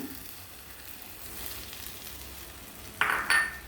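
Rava kesari with sugar being stirred in a pan, a faint low simmer with light scraping, then two short, louder clinking scrapes near the end.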